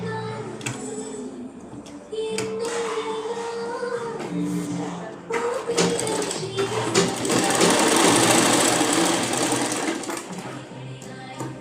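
A sewing machine stitches a pair of shorts, a loud close rattling whir that runs in uneven bursts, speeding up and slowing down with a few brief pauses.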